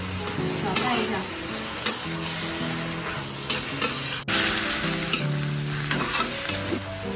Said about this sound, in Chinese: 再放点菜，炒一炒。